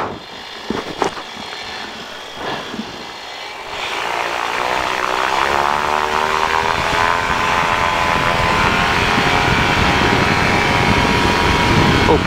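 An SSDR light aircraft starts its takeoff roll on a runway: quiet cockpit sounds give way to a loud, steady propeller engine drone that rises to full power and holds close and continuous.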